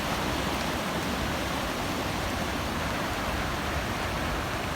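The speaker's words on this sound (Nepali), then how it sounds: "खोलामा पुरै भल बगेर हेर्नु होला नि यहाँ" A flooded river in full spate rushes loudly and continuously, a dense unbroken roar of churning water filling the whole clip with no voices.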